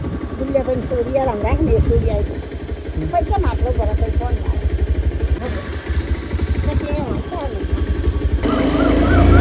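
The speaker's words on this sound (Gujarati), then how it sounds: "આપણે બાઇક તો સ્ટાર્ટ કરી દીધી" A motorcycle engine starts, then idles and runs with a steady, close rumble while a person talks over it; the engine grows louder toward the end.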